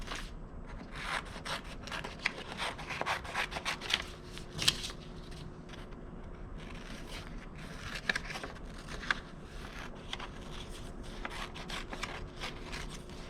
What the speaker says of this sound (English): And then I want to go ahead and cut this out.